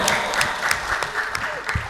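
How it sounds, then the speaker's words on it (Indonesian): Audience applause for village head candidate number one at a Kajeksan village head vision and mission presentation, a short burst of dense, steady clapping from a nearby crowd. "Beri tepuk tangan yang meriah untuk calon nomor urut 1 Bapak Selamat Wibisono."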